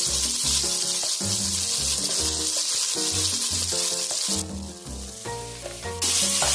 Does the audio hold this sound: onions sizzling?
yes